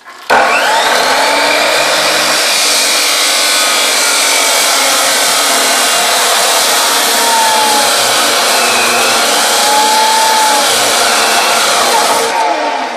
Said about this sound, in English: It's kind of loud, so here's a little bit of how you cut it.